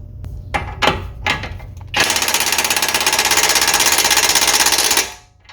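An impact wrench on its lowest setting tightens a sway bar end link on a 2010–2014 Ford Taurus. A few loud clunks come first, then a continuous rapid hammering burst that runs for about three seconds and stops abruptly.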